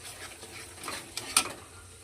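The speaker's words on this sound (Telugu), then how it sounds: "ఇవి అదే నూనెలో అల్లం వెల్లుల్లి పేస్ట్ దీంట్లో వేసాం" Ginger garlic paste frying in hot oil gives a soft crackling sizzle, with a spoon stirring and a sharp clink or two against the pan, close and fairly quiet.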